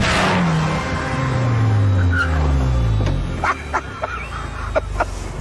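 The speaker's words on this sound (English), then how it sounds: "This is the KTM Crossbow." A KTM X-Bow sports car engine revs up and falls away in several sweeping pulls, loud and close at first, then fades into quieter sharp blips and clicks.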